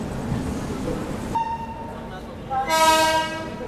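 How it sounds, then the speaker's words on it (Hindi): A WAP-7 locomotive hauling the 12487 Jogbani–Anand Vihar Seemanchal Express sounds its horn arriving at Ghaziabad Junction: a brief tone, then a louder, sustained multi-tone blast over a steady train rumble. "क्या प्यारी हॉकिंग के साथ एंट्री लिया भाई गाजियाबाद जंक्शन पे वेब 7 ने।"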